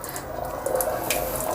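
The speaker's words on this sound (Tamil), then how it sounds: "தண்ணியை திறந்து விட்டோம், வெளியே வந்ததுக்கப்புறம் சுவிட்ச் ஆன் பண்ணிட்டோம்." Water runs steadily from the tap of an instant electric water heater, a continuous close splashing hiss with no talk.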